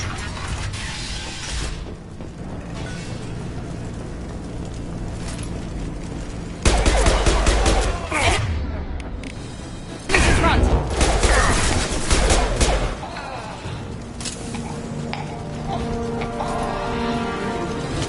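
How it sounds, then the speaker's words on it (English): Gunfire rings out in the video game Mass Effect 2 as Blue Suns mercenaries and Vorcha shoot, with rattling bursts and heavy volleys in loud clusters between quieter stretches of mechanical game ambience and faint voices. "The Blue Suns and Vorcha are shooting anything that moves."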